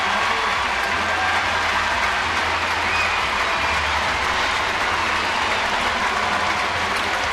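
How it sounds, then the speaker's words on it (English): A baseball crowd at a San Diego versus San Francisco game applauds a player, giving a steady, even roar of clapping and crowd noise that holds at a constant level from a distance throughout. "Pagan gets a nice round of applause."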